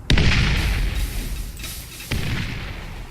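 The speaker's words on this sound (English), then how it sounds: "let's throw a grenade there" Grenade blasts in Borderlands, the video game, shown as two loud booming bursts roughly two seconds apart, each leaving a rumbling decay, with no talking over them.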